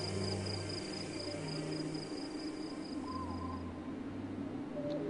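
Soft owl hoots drift through the ambient soundscape of the video game Proteus, low repeated tones sitting under a steady wash of background music and faint bird-like calls.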